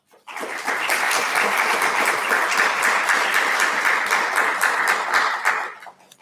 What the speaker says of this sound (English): Let's extend her a round of applause as well.